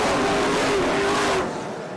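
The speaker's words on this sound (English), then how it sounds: "that's what we get as the cars are away and racing" Race cars on a banked circuit in a 2009 ELMS endurance race roar loudly as they accelerate away from the start, a dense engine wail that drops off sharply near the end.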